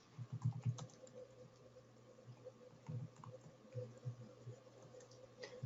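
Typing a file name on a computer keyboard: soft, quiet clusters of key taps in short irregular bursts, close to the microphone, with no voice over them.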